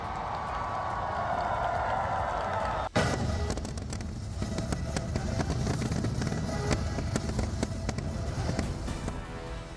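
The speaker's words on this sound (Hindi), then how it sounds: "स्वामीनारायण अक्षरधाम मंदिर में लोगों ने जमकर आतिशबाजी की।" Diwali fireworks at Swaminarayan Akshardham temple crackle and pop continuously over a steady outdoor rumble, with one sharp bang partway through followed by rapid, scattered bursts.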